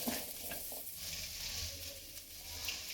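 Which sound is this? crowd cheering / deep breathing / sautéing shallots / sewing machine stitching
sautéing shallots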